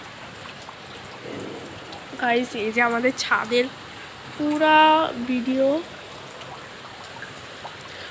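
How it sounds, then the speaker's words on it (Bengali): Heavy rain pours onto a rooftop in a steady, broadband hiss that runs through the whole stretch, while a person speaks over it for a few seconds in the middle. "বৃষ্টি, অনেক বৃষ্টি"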